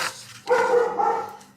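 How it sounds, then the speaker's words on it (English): A single dog's bark stretches into a drawn-out, howling yowl about a second long, close and fairly loud, with no talking. "That's my dog."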